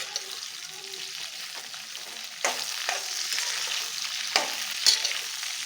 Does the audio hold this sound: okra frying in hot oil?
yes